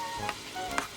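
Butter sizzling in a big pan while cooking beef caldereta, a steady close frying hiss with two brief louder crackles or stirring scrapes.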